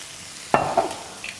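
Vegetables for chili chicken with noodles hiss in a hot pan after soy sauce is added: a sudden loud sizzle bursts in mid-clip, swells briefly, then fades to a softer crackle.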